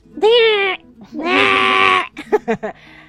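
A human voice imitates a goat bleating in a storyteller's tale, giving two long wavering bleats followed by a few short choppy bleats, loud and close with no other sound.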